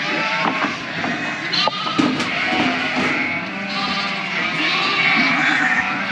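Ewes bleating in a sheep yard during wet-and-dry checking, repeated overlapping bleats from a flock close by amid steady yard noise, with some faint voices.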